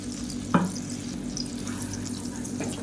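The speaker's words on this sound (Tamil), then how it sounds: "இதை வந்து ஒரு ரெண்டு நிமிஷம் வதக்கி விட்டுக்கலாம்" A garlic and black pepper paste sautés in butter in a pan, giving a soft, steady sizzle with a brief stir or clink early on.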